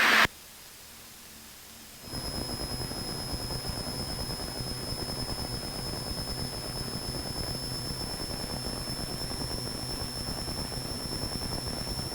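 Propeller aircraft engines on approach for landing at Ogden, Utah, rising in RPM as the props are brought up to 2400, a loud, steady broadband roar with a high whine that fills the cabin after a brief quieter moment.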